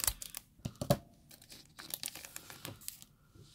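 Scissors snip and crinkle through the foil wrapper of a counterfeit Pokémon card booster pack, close and fairly quiet, with irregular sharp cuts and rustling plastic.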